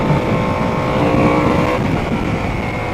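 Harley-Davidson Sportster S motorcycle engine pulling hard in second gear, a loud, close, sustained rising roar with steady exhaust rumble and a slight drop in pitch near the end.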